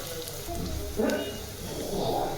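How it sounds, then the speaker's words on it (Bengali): Onions and green chilies frying in oil in a home kitchen: a continuous soft sizzle with light crackles and occasional stirring scrapes, close and moderate in level, with no talk. "এগুলো সুন্দর করে পেঁয়াজ কাঁচামরিচ এবং তেলে ভালো করে ভেজে নিব"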